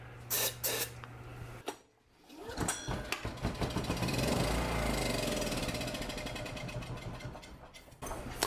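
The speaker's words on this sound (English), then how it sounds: "let's see if we can at least get it to run on some starting fluid" Starting fluid hisses in short spray bursts into an old Kawasaki generator with a dirty carburetor, then the engine catches and runs with a rough, rapid chugging that builds and settles, close by.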